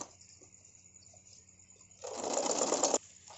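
A sewing machine runs a loose basting stitch around a blouse neckline, a quiet pause giving way to about a second of fast, steady whirring close by before it stops.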